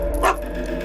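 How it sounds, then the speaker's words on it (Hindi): A dog lets out a single short, close bark indoors, with steady room noise underneath. "भौंक क्यों रहे हो?"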